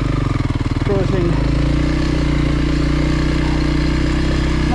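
Motorcycle engine held steady in first gear on a ride in Kinshasa, Congo, a loud continuous drone with a constant low rumble throughout, while a voice briefly speaks near the start.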